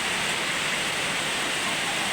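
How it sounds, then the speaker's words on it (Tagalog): Heavy rain pours nonstop during a typhoon in Dasmariñas, Cavite, a dense, loud, steady wash of noise that fills the whole stretch with no voices. "tuloy-tuloy pa rin ang ulan guys. Magdamag ang ulan."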